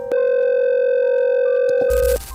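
A telephone dial tone plays as one steady, unbroken electronic hum for about two seconds, loud and close, then cuts off abruptly into a short burst of noise.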